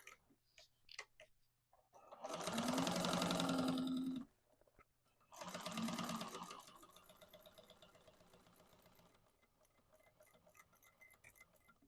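A sewing machine stitches an extra row on an Isabella tote bag in two loud bursts of rapid, steady whirring, separated by a short pause, with quiet ticking and faint handling noise around them.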